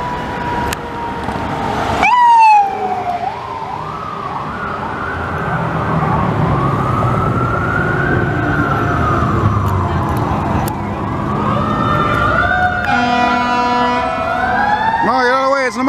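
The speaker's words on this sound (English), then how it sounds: "A lot of siren" A loud fire truck siren wails continuously, sweeping up and down in pitch, with a short burst of yelp tones and a vehicle rumbling underneath.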